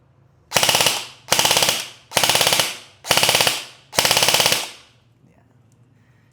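Airsoft gun bursts fired close by in semi-auto then full auto: five short rattling volleys of rapid shots with brief gaps between, then quiet.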